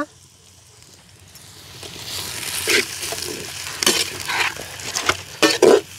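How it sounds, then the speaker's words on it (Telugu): Onions and green chilies with a little salt frying in a pan, a quiet sizzle that builds, broken by several louder stirring scrapes and clatters of the spoon against the pan toward the end. "పచ్చిమిరకాయలు, కొద్దిగా సాల్ట్ వేసుకుంటే ఎర్రగడ్డలు దోరగా వేగిపోతాయంట"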